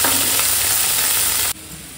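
Chopped eggplant and spring onion pieces in a pan with water, giving a loud, steady sizzling hiss that cuts off abruptly near the end.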